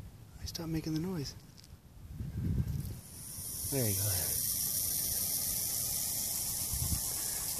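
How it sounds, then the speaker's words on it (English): A hognose snake on a trail in the Barton Creek Greenbelt gives a steady, breathy hiss close by that runs for several seconds, while people talk nearby. "Yeah, that's a hognose snake."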